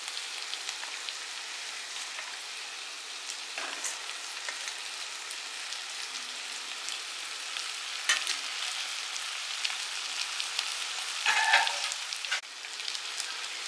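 Stuffed brinjals packed with masala sizzle steadily in a kadai, a continuous close frying hiss with a few brief stirring clicks and no talk.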